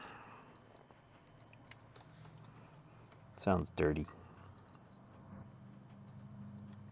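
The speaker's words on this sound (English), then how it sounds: "Let's do some beeping." Short high electronic beeps sound in a few separate bursts from a continuity tester checking connections on a vintage Macintosh computer, while a person briefly speaks between them.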